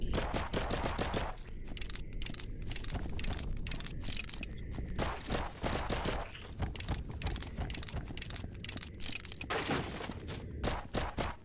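Rapid bursts of gunfire in a video game, loud and close, cracking in repeated volleys with brief gaps for about eleven seconds, mixed with shattering and breaking sounds.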